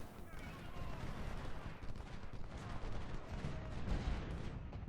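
Massed musket fire in Ultimate General: Civil War at the Saunders Farm battle, a dense continuous rumble of overlapping distant volleys with no clear individual shots, and a voice talking over it.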